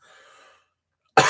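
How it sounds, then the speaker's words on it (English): A person coughs from laughing hard, with one loud, abrupt cough close by at the very end, after faint breathy sounds and a short silence. "You made me cough."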